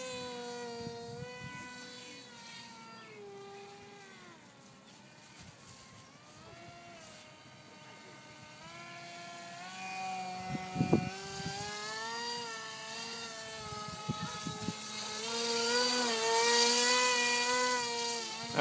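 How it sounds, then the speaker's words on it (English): RC MiG-29 model jet making a flyby outdoors, its whine rising and falling in pitch as it sweeps past, fairly faint, with brief bumps and handling noises along the way. "See if you can do a flyby."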